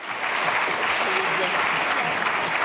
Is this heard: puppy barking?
no